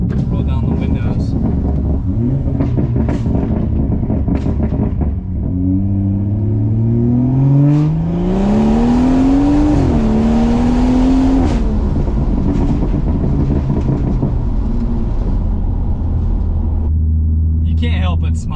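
A modified BMW 340i engine and exhaust accelerating, a loud, close rumbling growl that rises in pitch through the gears, with a brief shift dip and a deep drone afterward; voices are heard over it at times.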